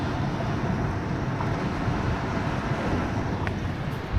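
Strong wind roars steadily through big pine trees beside a cabin during a tornado warning, a loud, dense rushing blast with no let-up and no voices.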